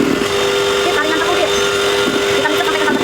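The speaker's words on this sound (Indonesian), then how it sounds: "Kalau buat donat pakai hand mixer" A hand mixer beats donut dough made with about 250 to 300 grams of flour, giving a loud, steady motor whir that runs unbroken from start to finish.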